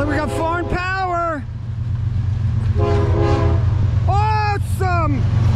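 A westbound Norfolk Southern freight train led by a KCS EMD SD70ACe locomotive passes with several loud horn blasts over a constant heavy low rumble of engines and rolling cars.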